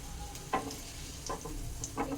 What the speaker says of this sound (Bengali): তেলের মধ্যে আমি একটা শুকনো লঙ্কাকে একটু ভেজে নিচ্ছি